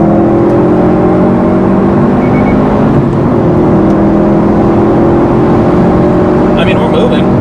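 A 290-horsepower car pulls hard in third gear with the AC off, its engine a loud, steady drone with harmonic bands held close throughout, rising slightly in pitch toward the end.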